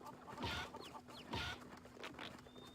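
A chicken in the online game Mabinogi clucks in two or three short bursts, quiet and close over a faint electronic background hum.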